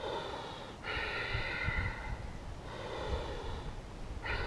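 Slow, audible breaths during a yoga chair pose, with two long, airy exhales separated by a quieter inhale, close and steady with no talking.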